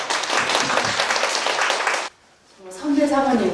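Audience applause welcoming the pastor's wife of Bonghwa Church at a church gathering, a dense burst of clapping that stops abruptly before a voice begins.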